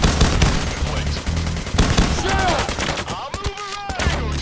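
Gunfire from the video game Payday The Heist during a police shootout, with dense bursts of rapid shots and bangs layered under game music and effects, while players talk over the action.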